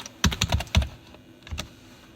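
Keys clack on a computer keyboard as a MySQL DELETE command is typed, a quick burst of several close keystrokes, a pause, then one or two more taps.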